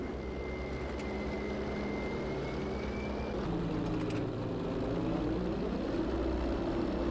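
A propeller aircraft flies overhead in the video game Battlefield 5, its engine droning steadily and swelling slightly as it passes, with a mechanical rumble beneath and a few faint clicks.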